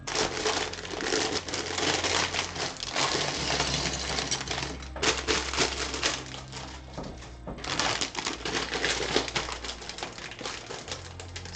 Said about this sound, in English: Excuse the bag noise.